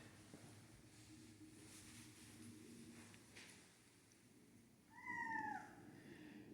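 An adult female foster cat lets out a single clear meow near the end, fairly close and distinct against a quiet indoor background.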